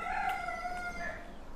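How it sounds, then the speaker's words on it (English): A rooster crows once in a long sustained call, moderately distant over a constant outdoor hiss, the note fading out after about a second. "You hear the roosters crowing?"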